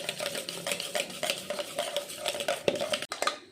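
Butter being stirred into cake batter in a bowl, a utensil scraping and clinking steadily against the bowl in close, repeated strokes, with a sharper knock near the end.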